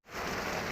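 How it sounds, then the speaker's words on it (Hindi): Heavy rain pours down steadily, a dense, continuous hiss of drops drumming on a surface, loud and close with no voices. "बहुत तेज़ बारिश हो रही है ना, यकदम ही बारिश आई है।"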